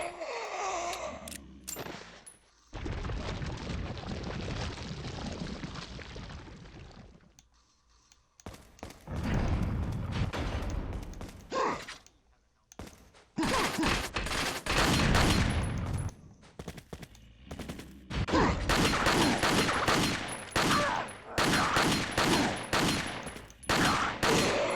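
Repeated handgun gunfire in Resident Evil 4 (2005), bursts of loud shots in clusters separated by brief pauses, growing denser toward the end.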